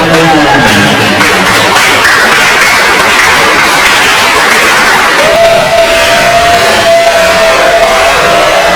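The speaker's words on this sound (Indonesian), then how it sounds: "Berikan tepuk tangan." An audience at an Islamic boarding school closing ceremony breaks into loud, dense applause mixed with cheering and shouts. A sustained voice or tone rises partway through.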